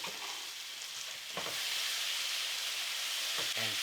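Coriander, cumin, turmeric, garam masala and a chicken marinade sizzle and fry in a hot pan, a steady close hiss that swells louder partway through, with a few brief stirring scrapes and no talking.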